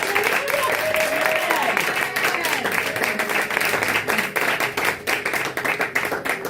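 A church congregation applauding and acclaiming Jesus, with dense, steady clapping and crowd cheers under a preacher's voice, loud and close throughout.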